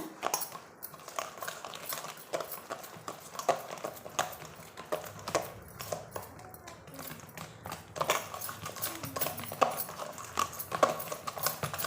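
Banana cake batter of sugar and cooking oil is beaten by hand in a bowl, giving an irregular, fairly quiet clatter of the utensil knocking against the bowl, continuing throughout with occasional louder strikes.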